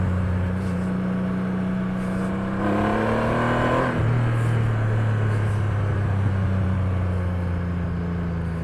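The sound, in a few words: motorcycle engine revving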